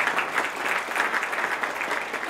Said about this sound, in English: So yes, let's give them a round of applause.